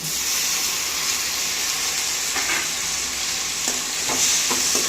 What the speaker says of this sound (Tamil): தக்காளியும் போட்டு இதையும் நல்லா வணக்கணும்.